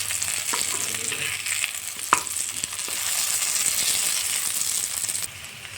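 Potatoes fry with masala in a pan, a dense continuous sizzle up close with a few utensil knocks and scrapes early on and a sharp clack near the middle, no voices.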